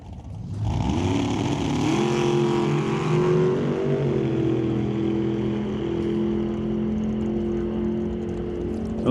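A 1927 Roadster drag racing car at a drag strip runs loud and steady, its engine note rising in pitch after a second, then holding a sustained high-revving drone with a brief step near the middle of the run.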